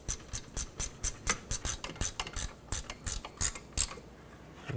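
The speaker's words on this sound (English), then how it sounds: "So let's tighten up the center bolt first." A hand ratchet clicks in quick bursts as it tightens the center bolt of an idler pulley on a 2004-2008 Acura TL serpentine belt drive, loud close pawl clicks in a rapid uneven rhythm.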